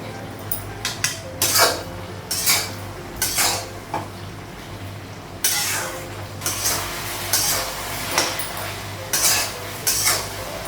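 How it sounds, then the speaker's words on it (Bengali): A metal cooking pot lid in a home kitchen clanking and scraping in a series of sharp, close knocks and rattles spaced irregularly over a quiet background. "ঢাকনাটা উঠানো"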